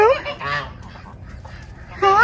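A farm flock of geese honks close by during an arctic freeze, loud nasal calls at the start and again at the end, with quieter yard noise and a brief voice in between.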